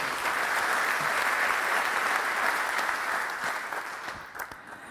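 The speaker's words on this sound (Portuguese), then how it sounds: "Uma salva de palmas para o António Carlos." A conference room full of people claps steadily, dense and even, before the applause gradually thins and fades.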